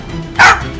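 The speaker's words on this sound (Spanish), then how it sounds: "Más ladridos y cosas..." A single sharp bark from Chop, the dog in GTA 5, one short loud woof rising out of quiet game ambience and trailing off.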